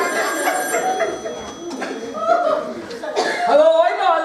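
A telephone bell rings on stage during an amateur drama group's comedy play, warbling repeatedly while an audience chuckles and laughs and voices talk over it.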